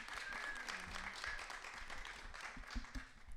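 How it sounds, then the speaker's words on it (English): A modest film festival panel audience claps for the filmmakers, fairly quiet and loose, with a voice and some low murmuring mixed in. "Big round of applause for our filmmakers."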